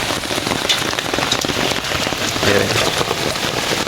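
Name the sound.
heavy rain falling beside a paddy field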